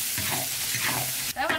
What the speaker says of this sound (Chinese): 再挖点豆瓣酱进去，花椒，给它炒出红油来